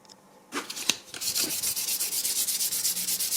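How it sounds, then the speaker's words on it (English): Sandpaper of 1000 grit rubbing over an edge paint base coat, a few initial scrapes followed by rapid, even back-and-forth abrasive strokes, close and fairly loud. "and then you sand it"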